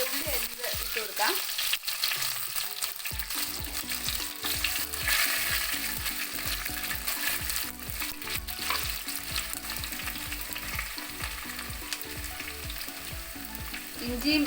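Chopped shallots sizzle in hot oil after mustard seeds have popped, a dense, steady frying crackle with repeated stirring scrapes throughout and no voices.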